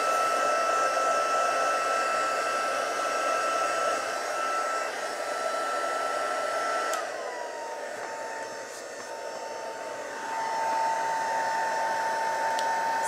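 A hair dryer blows steadily to dry ink stamped on a card, a loud continuous whir that holds for the whole stretch, dipping slightly in pitch and level midway before rising again, with no talk over it.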